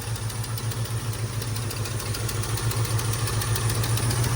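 A 1977 Ford F250 engine idling with a slight miss, a steady close, loud pulsing rumble with faint uneven beats, running alone without voices.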